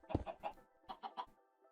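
Chickens cluck in short, bouncy bursts inside a Minecraft survival chicken cooker farm, several calls in quick succession, fairly quiet and with no voices.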